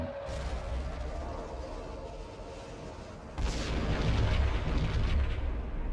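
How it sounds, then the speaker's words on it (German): A bomb goes off in a run-down building next door in Max Payne: a dull, roaring blast swells suddenly and rumbles on loudly over a continuous background din. "Eine weitere Bombe explodierte in der Bruchbude nebenan"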